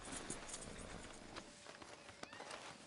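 Horse hooves clip-clopping in the Western video game Red Dead Redemption 2, a soft steady walking rhythm set against a dense outdoor ambience, fairly faint.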